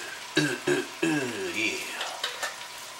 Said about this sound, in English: Let me stir that for a while.